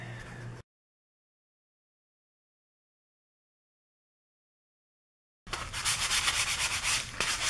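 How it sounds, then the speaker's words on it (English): A painted cat figure being sanded by hand, a brief rub at the start, then a long gap of silence before steady, close rasping strokes of sanding resume and continue rhythmically to the end. "Sanding away"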